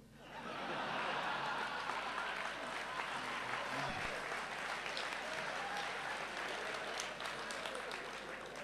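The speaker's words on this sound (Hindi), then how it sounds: "दो तीन लोग ताली बजा रहे हैं" Sparse clapping from a few audience members at a Hindi-Urdu poetry recital fills the whole stretch as steady, light applause, with faint chuckles from the crowd.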